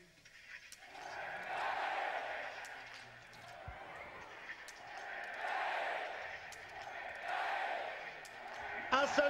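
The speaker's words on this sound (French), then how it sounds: "On va entendre le bruit de la foule là." Spectators at a men's mass-start biathlon race in Ruhpolding roar and cheer in long surging waves, loud and sustained, with sharp knocks and a commentator's voice in the mix.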